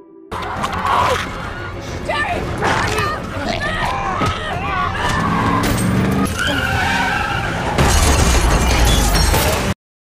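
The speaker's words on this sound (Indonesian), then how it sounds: "Dengan sebuah mobil RV, Jerry langsung tancap gas" An RV speeds off in a film scene, with loud tire skidding and engine roar mixed with dramatic sound effects, bursts and a crowd murmur throughout, ending abruptly.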